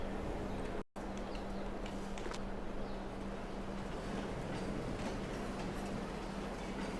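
Train in the Farming Simulator 22 video game approaching and braking, a steady low rumble with a sustained tonal hum, heard alone after a brief dropout near the start.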